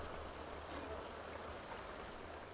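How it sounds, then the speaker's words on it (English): Steady rain falls during a storm, a dense even patter close by with no breaks. "So there's a storm going on."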